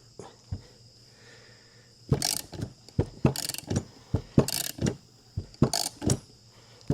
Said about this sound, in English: turning the ratchet enough times to snug the metal at the top of the bushing up against the wishbone